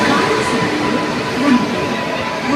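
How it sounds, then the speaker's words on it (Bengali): A passenger express train with sleeper coaches rumbles steadily close by, a continuous low roar with faint rail noise, with no one talking. "তো এই হচ্ছে ট্রেন।"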